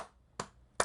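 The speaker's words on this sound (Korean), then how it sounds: "우선 박수를" A few sharp hand claps, three distinct broadband bursts spaced roughly evenly, each decaying quickly, with quiet gaps between and no talking.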